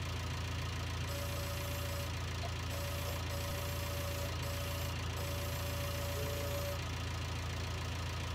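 A Land Rover engine idles steadily in Farming Simulator 19, a constant low rumble with a thin whine running through the middle of the clip and no voices.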